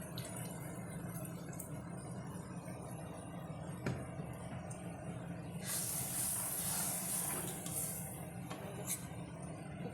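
Hot water goes into a hot cooking pot, raising a soft, continuous hiss that swells into a brighter burst of steam midway and then settles. It is fairly faint, with a low background rumble and no speech.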